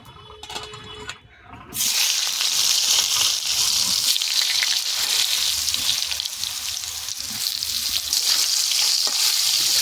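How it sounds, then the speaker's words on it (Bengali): Cauliflower and potatoes frying in hot oil in a pan, a loud steady sizzle that bursts in after a quieter start and keeps crackling throughout, with no talk. "এবার ফুলকপি আলু আমি ভেজে নেব"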